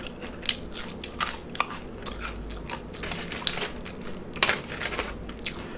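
Super crispy fries crunched loudly and close to the mic, several sharp bites followed by rapid crackling chews in an uneven rhythm, no voices.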